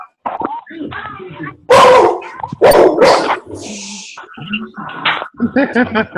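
A dog barks a few times up close, interspersed with whines and a cough-like huff, alongside a person talking.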